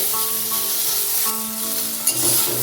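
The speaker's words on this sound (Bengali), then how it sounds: "গ্যাসের ফ্লেমটা লো টু মিডিয়ামে রেখে ভিন্ডিগুলোকে ভেজে নিচ্ছি" Okra fries with turmeric in a pan over a low-to-medium gas flame, giving a steady, close sizzle with a brief stirring scrape, and no voices.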